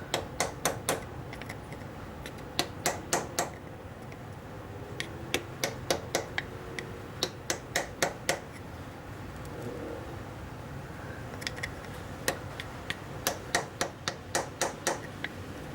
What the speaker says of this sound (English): I'm just going to try and tap that in like that.